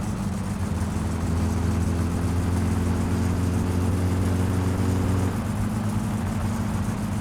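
A car engine in the video game My Summer Car idles roughly, close and loud, with a lumpy, uneven low rumble that shifts pitch partway through, no voices present.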